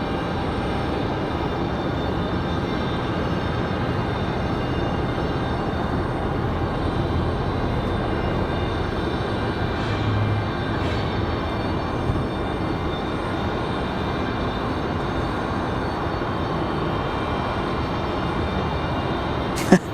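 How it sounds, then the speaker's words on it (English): A Delta Boeing 737-900 in from Atlanta, heard as a steady, even jet-engine roar filling the whole stretch with a constant broadband rumble, close and fairly loud at Raleigh-Durham airport. "next up, that Delta 737-900 from Atlanta"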